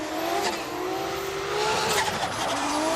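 A drift car at full throttle at Okayama International Circuit, engine roaring high and steady with squealing tires, loud and continuous as it slides through the corner, with no talking.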